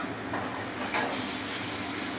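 Water poured onto hot spices in a Kolkata biryani pan bursts into a loud, close hiss of steam and sizzle that swells and holds for a couple of seconds.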